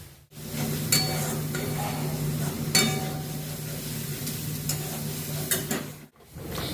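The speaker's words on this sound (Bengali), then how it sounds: "আদা রসুনের পেস্টটা দিয়ে বেশ কিছুক্ষণ নাড়াচাড়া করতে হবে।" A spoon stirs ginger-garlic paste into fried onions in a pan while the oil sizzles steadily, with repeated scraping and clinking strokes against the pan, for a potato and soya bean curry.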